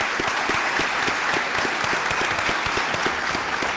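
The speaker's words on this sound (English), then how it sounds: "One more round of applause, please." A large audience applauds steadily at the close of a 2023 mayoral debate hosted by the League of Women Voters and the Elyria YWCA, with dense, sustained clapping and no voices over it.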